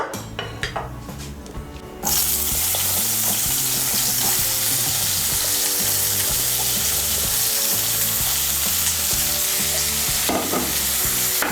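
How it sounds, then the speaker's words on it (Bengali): Eggplant pieces hit hot oil in a wok with a sudden loud sizzle that stays strong and close, broken by regular metal spatula scrapes and knocks against the pan. "এর মধ্যে আমি বেগুনগুলো ভেজে নেব।"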